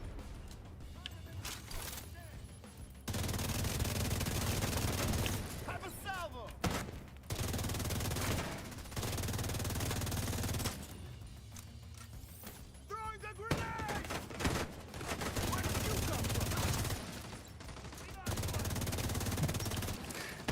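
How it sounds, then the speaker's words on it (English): Assassin's Creed PvE combat gunfire aimed at a turret comes in several long, loud, dense bursts separated by short lulls, with voices talking in between. "Oh, he's shooting at the turret actually."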